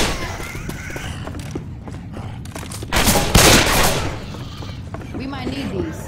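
Gunfire crackles in the zombie shooter game Left 4 Dead as rapid volleys of shots ring out, with a louder, denser burst in the middle. Game voices and other sounds are mixed underneath.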